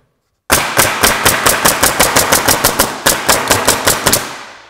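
Pneumatic roofing coil nailer fired in a rapid burst of about twenty sharp, evenly spaced cracks over four seconds, loud and close after a brief silence.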